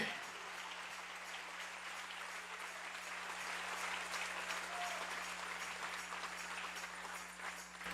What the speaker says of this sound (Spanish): Dale ese aplauso al Rey en esta noche